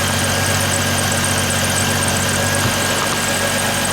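A 2006 Chevrolet Trailblazer engine idling rough with a fuel problem, heard close up as a steady, continuous, loud idle with no voices.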